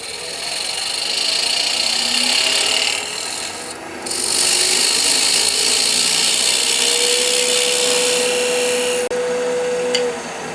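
A power tool cuts and sands a wooden plug in a workshop, a loud steady rasping whine that runs almost continuously with one short break.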